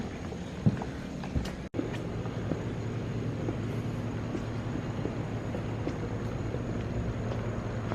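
A low, steady rumble hums through the whole stretch, like a train passing at a distance, heard from a back garden in Savannah, Georgia, with a brief sharp knock near the start.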